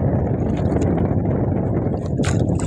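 A strong south wind blows across Manila Bay by a boat at the shore, a loud continuous rush with buffeting on the microphone.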